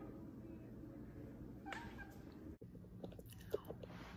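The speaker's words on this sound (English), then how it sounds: "That's my noisy cat." A pet cat meows a few times, quiet and close, among faint indoor sounds.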